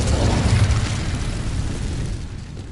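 An Incendio fire spell cast in Hogwarts Legacy erupts as a loud, roaring whoosh of flame with a deep rumbling body that holds steady and fades slightly over a few seconds.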